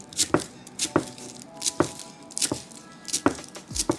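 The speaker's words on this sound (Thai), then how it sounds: "หั่นหอมเปย์ใส่" A knife chopping herbs on a cutting board, about a dozen crisp, close taps in a quick, slightly uneven rhythm.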